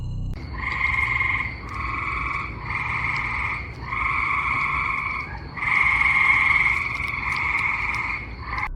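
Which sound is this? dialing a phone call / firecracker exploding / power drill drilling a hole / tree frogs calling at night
tree frogs calling at night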